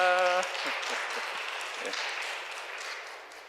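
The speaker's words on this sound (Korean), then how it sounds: "먼저 오늘 노래 준비하신 분들께 박수 한번 드릴까요?" A church retreat audience applauds for the singers, a dense wash of clapping that follows a brief spoken word and holds steady before easing off slightly at the end.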